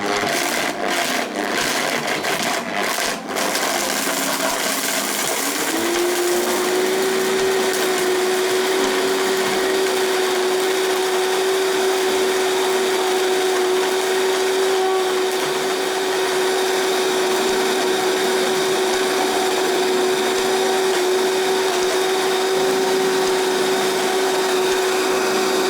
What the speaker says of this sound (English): So I'll just go ahead to transfer my dried dates into my blender